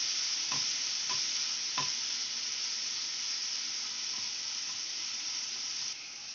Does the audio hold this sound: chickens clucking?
no